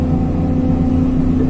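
A Hyundai R220 excavator's diesel engine running loud and steady at grading work in dry clay, a deep throbbing drone held at constant revs throughout.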